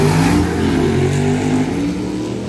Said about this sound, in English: this car, this thing, it sounds maybe one of the best sounding 55 Chevys ever with that NASCAR small block in it